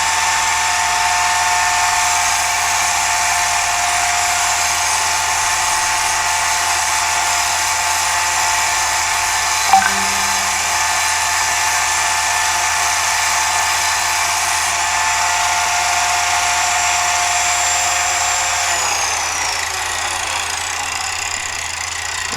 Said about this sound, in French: c'est une rectifieuse de la meule. C'est une meule.